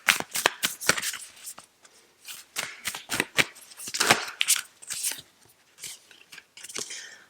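Yogic Path tarot deck shuffled by hand, crisp papery riffles and slaps in quick irregular bursts, close and clear, with short gaps between shuffles.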